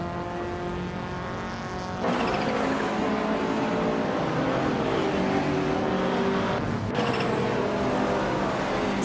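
Turbocharged 1987 Ford Sierra RS500 Cosworth and other race cars in a racing video game, engines droning loudly and steadily throughout, with a sharp surge in intensity after two seconds and a brief dip near seven seconds.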